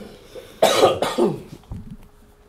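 Several harsh, close coughs come in quick succession from a person at a Star Wars X-Wing tabletop tournament, followed by a quieter throat-clearing rasp.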